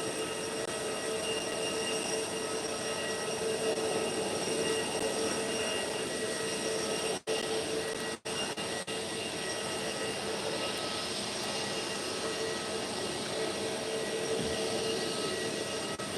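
A Transavia airliner takes off from Málaga Costa del Sol Airport, heard as a continuous distant jet roar with a steady high-pitched whine, unbroken except for two brief dropouts.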